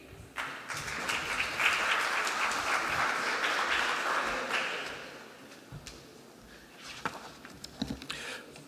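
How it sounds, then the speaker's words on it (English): Audience applause at a high-level international conference for the Ambassador of France to Austria, building quickly to a dense, steady round of clapping, then tapering off into scattered claps over several seconds. "give a warm round of applause"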